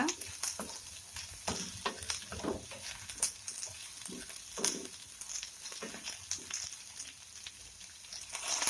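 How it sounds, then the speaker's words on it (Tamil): Pirandai (adamant creeper) sautéing in a pan for chutney gives a soft, steady sizzle under a run of quick scraping stirs, fairly quiet throughout, with no talking. "இன்னும் ஒரு டூ த்ரீ மினிட்ஸ் வச்சு வதக்குங்க"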